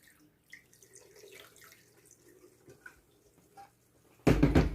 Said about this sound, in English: we're going to go ahead and top it off with water before we put it back in its place